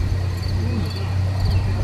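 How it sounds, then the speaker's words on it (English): Frogs chirp at night during a total solar eclipse, a steady, continuous chorus of high, thin calls over a low background hum, with no talking. "Frogs are chirping."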